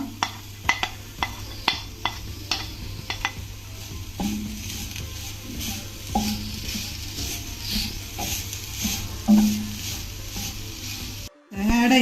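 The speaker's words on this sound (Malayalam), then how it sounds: "പാൻ ചൂടായി വന്നിട്ടുണ്ട് നമുക്കിതിലേക്ക് തേങ്ങ ചിരിക്കുന്നിട്ട് ചേർത്ത് കൊടുക്കാം ഇതിലേക്ക് ഇഞ്ചി വെളുത്തുള്ളിയും കൂടെ ചേർത്ത് കൊടുക്കാം" Grated coconut, ginger and garlic are stirred in a hot pan, with repeated clinks and scrapes of a spatula against metal over a soft sizzle, slowing to occasional stirs.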